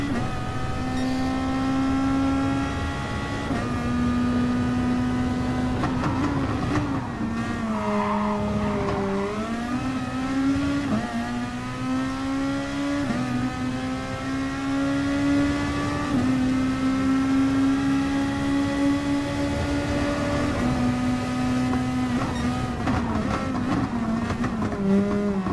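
Race car engines on a circuit at an FIA Nations Red Bull event, revving hard and steadily with rising and falling pitch as gears shift, loud and continuous throughout.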